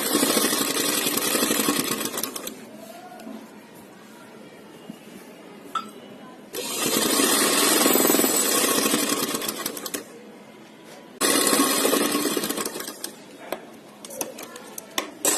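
A sewing machine runs a top-stitch seam in three bursts of steady mechanical whirring of a few seconds each, separated by quieter pauses with light clicks and handling noise.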